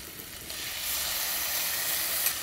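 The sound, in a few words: tomatoes and green chillies frying in a pan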